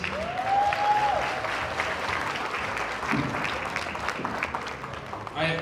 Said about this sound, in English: round of applause for Dean again, please